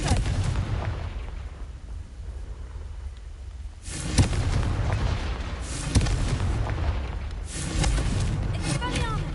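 Booming explosive blasts from the Confringo spell in a Harry Potter video game, several heavy bursts spaced a few seconds apart amid ongoing game noise and a voice talking.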